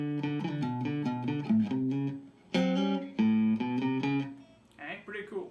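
Guitar plays the second riff of a song, a run of plucked notes and slides with short pauses, close and clear, played alone.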